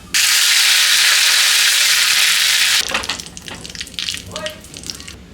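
Mustard seeds and curry leaves hit hot oil for a tempering, giving a loud, dense sizzle that holds steady for a few seconds, then breaks into softer crackling and scattered pops.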